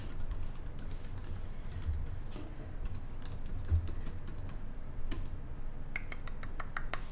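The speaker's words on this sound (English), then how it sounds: "Let me get my keyboard so I can type you the email address to which you can send the pictures." Quick bursts of keystrokes rattle on a computer keyboard, close and clear, with short pauses between runs of typing and no talking.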